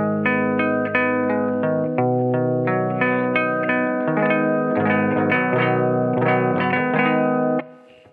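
Electric guitar with its strings muted by a thin rubber band, played through effects such as distortion, chorus and reverb, giving a steady run of damped, sustained chords and notes that ring loud and close for about eight seconds before cutting off.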